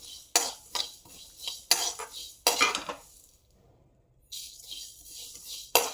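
A spoon clanks and scrapes against a metal pan as spices for puliyogare gojju fry on a low flame, coming in several sharp bursts of stirring with a quiet pause in the middle.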